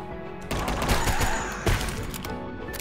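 Rapid gunfire bursts from the video game UnMetal, two loud clusters of quick shots close together over a game soundtrack.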